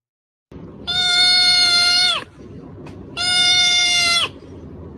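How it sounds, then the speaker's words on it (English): Two long, bright cat meows from a sound effect button play in turn, each lasting over a second, loud and close with a short quiet gap between them. "You ready to hit the meow button?"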